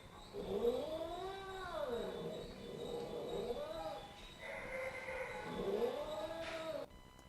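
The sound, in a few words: cat vocalizing in response to dogs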